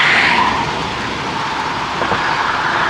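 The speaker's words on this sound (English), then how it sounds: "Never mind, it's a car." A car passes outdoors in rural Mississippi delta country, a broad steady road rumble and whoosh that holds for about three seconds with slight swelling near the end, no speech over it.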